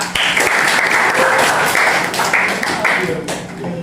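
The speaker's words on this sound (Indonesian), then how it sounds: "Oke, tepuk tangan buat Saka." A school classroom claps for a student, loud and lively applause from the whole group, with voices talking and calling out over it.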